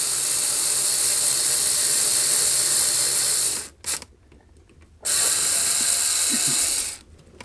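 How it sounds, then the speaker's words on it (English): A power drill bores pilot holes for screws while working overhead, running as a loud steady whine for several seconds, stopping briefly, then starting again for a second burst. "I'm pre-drilling some pilot holes for the screws"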